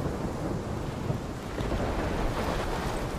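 Thunderstorm in the video game Life Is Strange, with a dense, steady roar of rain and wind and a low rumble of thunder throughout.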